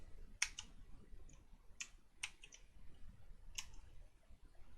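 Computer keyboard typing in a web-page coding session, a few quiet separate key clicks in small bursts spread across the stretch, close and alone without talk.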